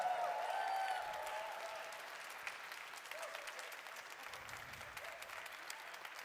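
A crowd claps steadily, the applause slightly louder at first then settling into a softer ongoing patter, with a faint tone early on.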